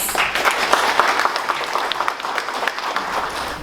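Applause from the audience at an anniversary gathering of an anti-alcoholism group in Naviraí, steady close clapping with some sharper individual claps standing out, sustained throughout.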